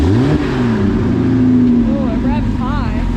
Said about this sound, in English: it's revving all high, and it's like rattling